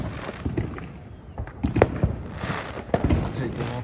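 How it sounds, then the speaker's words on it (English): Big fireworks exploding in irregular loud pops and bangs with crackling tails, someone talking over the bursts. "The big fireworks has started."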